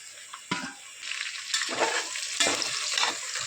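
Carrots, beans and green chillies tipped into hot oil with onions for vegetable biryani, sizzling steadily with a few stirring scrapes and clatters of the ladle, close and fairly loud with no talking.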